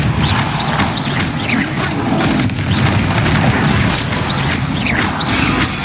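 Confringo explosion spell cast during combat in Hogwarts Legacy: a loud, dense stretch of rumbling booms and crashing blasts that continues unbroken for the whole span, with no talking.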